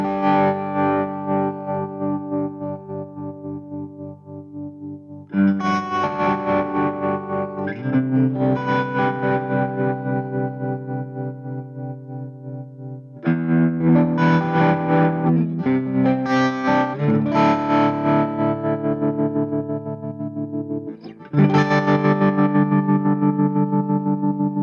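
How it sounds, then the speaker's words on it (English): Electric guitar played through the tremolo effect of a Mooer Black Truck multi-effects pedal, sustained distorted chords pulsing in volume, changing every few seconds with brief gaps, loud and alone. "Let's try adding some tremolo into that."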